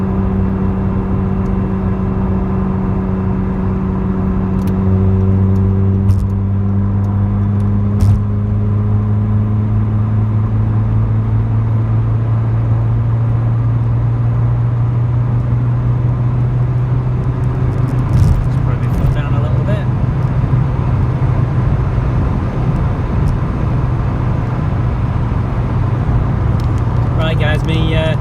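Steady, loud interior road noise from a Vauxhall Cavalier rat-look car driving along a road, engine drone rising and falling through gear changes, with a person talking over it throughout.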